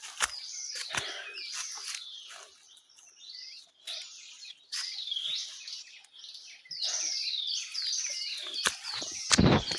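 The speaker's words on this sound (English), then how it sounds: "you can listen to birds singing" Several birds sing and chirp in a Kenyan forest, their varied high whistles and trills overlapping in fairly close bursts, with a few soft rustles and footsteps and a louder knock at the end, no talking.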